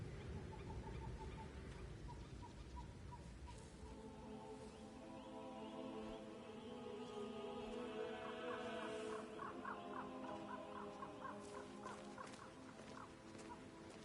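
Birds honking and clucking in a Hitman 3 game scene, a repeated series of calls over a steady ambient bed, growing busier partway through.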